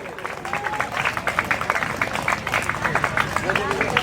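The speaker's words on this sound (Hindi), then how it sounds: "तालियां बजाते रहे भैया आप लोग।" An audience applauds steadily, with many hands clapping in a dense, even patter of quick claps that holds the whole time, and faint crowd murmur underneath.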